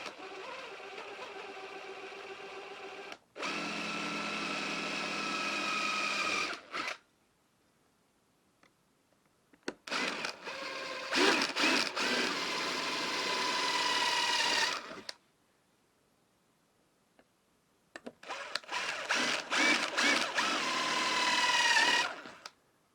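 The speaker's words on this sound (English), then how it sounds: "all we're going to do is drill some holes" A power drill bores holes in a piece of spare wood during the fitting of a sliding wardrobe door kit: three separate bursts of whining motor and biting bit, a few seconds each, with quiet gaps between.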